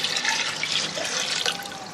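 Water pours into a cooking pot over beef trotters for paya, a continuous splashing, gurgling flow heard up close for a couple of seconds.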